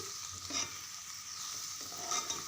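Flat bean seeds being stirred with chili powder in a pan for a tomato curry, with soft repeated scraping strokes over a low, quiet sizzle.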